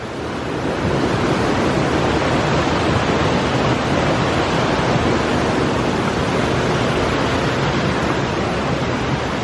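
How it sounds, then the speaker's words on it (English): Steady, dense rushing river water roars without pause, a loud broadband wash of fast-flowing rapids close by, with no voices, on the Appalachian Trail. "Wow, that water is moving."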